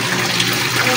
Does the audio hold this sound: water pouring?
yes